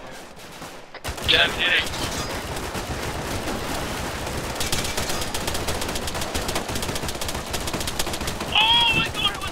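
Gunfire in the Arma 3 military game, dense rapid bursts and scattered shots over a continuous rumble, with voices talking over the shooting.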